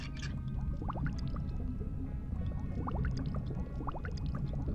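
Pool water draining in the horror game Corpse Party: Blood Drive: a steady low rushing gurgle with scattered faint bubbling and dripping, continuous and unbroken, with no voices.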